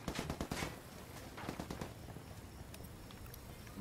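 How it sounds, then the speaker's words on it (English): Rapid bursts of automatic gunfire from a first-person shooter video game, several quick volleys at the start and again mid-way, then fading to a faint background hiss. "I don't know where he's shooting from"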